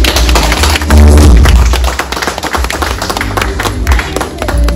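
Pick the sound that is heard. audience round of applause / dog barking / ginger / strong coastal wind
audience round of applause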